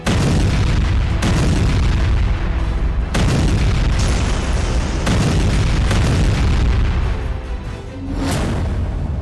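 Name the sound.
explosions from Israeli army strikes in Beirut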